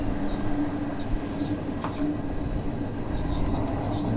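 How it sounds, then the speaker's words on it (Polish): A night passenger train from Moscow to Paris passes a freight train, giving a steady loud rumble of rolling wagons with faint rail clatter and a couple of short sharp clanks. "W tej chwili mamy mijankę z pociągiem towarowym."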